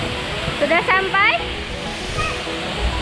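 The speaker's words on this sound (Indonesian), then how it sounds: "Kita sudah sampai di Air Terjun Ciismun." The constant rushing roar of the Ciismun waterfall in Cibodas Botanical Garden, heard close by as a broad steady wash, with people talking briefly over it.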